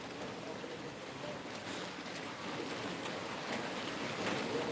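Steady rain hissing continuously at moderate loudness, a dense even wash of sound that builds slightly toward the end, with no distinct voices.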